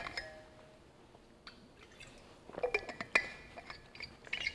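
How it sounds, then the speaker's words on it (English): Glass being handled for a drink of water, faint clinks and light liquid splashes and sips, close and quiet, scattered across a few seconds in a hushed room. "I'm gonna take a drink of water."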